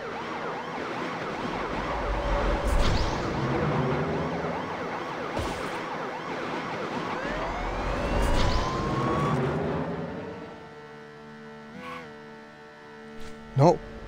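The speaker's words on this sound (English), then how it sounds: "Okay, sirens, not bad." Sirens wail from the Beach Buggy Racing 2 racing game, rising and falling over a dense bed of game music and engine noise that fades toward the end.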